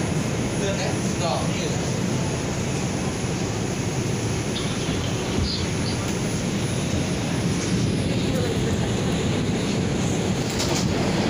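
A steady, loud rumble and roar of a moving New York City 6 subway train, an R142/R142A, fills the whole stretch, with constant rattling and no clear pauses.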